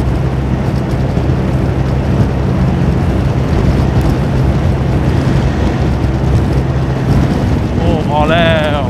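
A Honda Forza 350 scooter runs at full throttle near 150 km/h, its steady roar blended with heavy rushing wind noise throughout, with a brief rising whine near the end.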